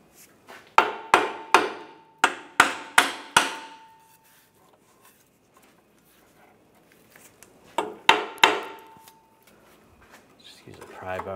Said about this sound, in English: You can hit it with a hammer.